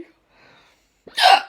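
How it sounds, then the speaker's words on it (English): A woman's sharp, aggressive hiccup bursts out loud and close near the end, after a brief faint breathy sound and a stretch of near silence. "These are like really aggressive hiccups."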